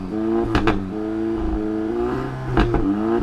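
A 2015 Audi A3 under hard full-throttle acceleration, its engine climbing steadily in pitch with two sharp gear-shift interruptions, loud and close with no one talking.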